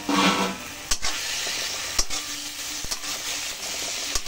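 Spice paste with slit green chillies and a splash of water being fried in a pan for a fish curry, a steady close sizzle with occasional sharp clacks of a spatula scraping and stirring.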